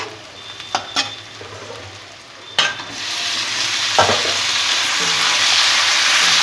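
Chunks of meat frying in a pot, a steady sizzle that swells louder partway through, broken by a few sharp clinks and scrapes of stirring.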